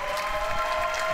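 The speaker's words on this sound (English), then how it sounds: "Big round of applause for him." A short burst of audience applause for a founder and CEO taking the stage at the 4YFN Awards in Barcelona, a brief steady wash of clapping with a faint hum underneath.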